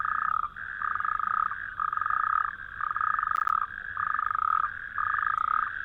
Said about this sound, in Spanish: Los anfibios que pueblan este medio marcan sus territorios sin parar de cantar